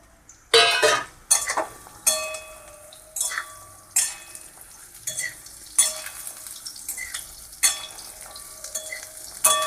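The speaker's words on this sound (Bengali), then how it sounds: "আমগুলোকে একটু ভালো করে ভেজে নেব।" Dried raw mango pieces frying in hot oil with bay leaf on a low gas flame for a sweet-sour pickle: a steady sizzle punctuated by repeated scraping stirs of a spoon against the pan, close and fairly loud, with no talking.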